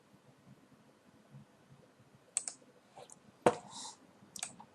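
Computer mouse clicking during 3DS Max animation work, a handful of sharp, close, isolated clicks scattered over a quiet background, with one louder click near the end.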